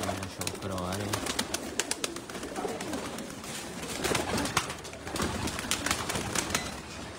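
Pigeons coo in soft, repeated low murmurs outdoors on the roof of a poultry market, with scattered clicks and rustling around them and a voice briefly speaking in the background.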